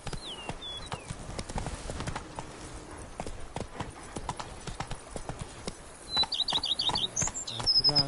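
Hoofbeats of Roach, Geralt's horse in The Witcher 3 video game, clip-clop in a steady galloping rhythm throughout, with a few bird chirps, swelling louder toward the end.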